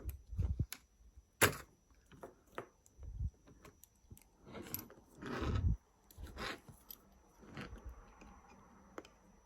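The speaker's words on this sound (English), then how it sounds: "just going to tease the motor out a bit, if it will come." A motor is worked loose from a Hornby TT:120 Class 43 model train, with a run of small plastic clicks, creaks and scrapes in irregular bursts, close and fairly quiet, no talking.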